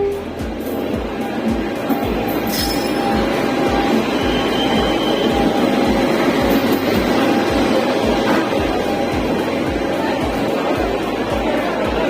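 Train at a railway platform in Prayagraj during the Maha Kumbh, a loud steady rumble with rhythmic clickety-clack of wheels over rail joints, close and continuous, with crowd noise in the background.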